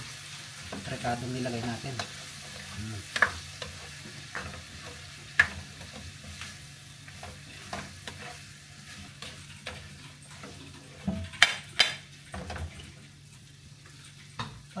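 Sisig ingredients sizzling in a hot pan while being stirred, a soft steady sizzle with repeated scraping and clacking of the spatula, and a voice speaking briefly over it.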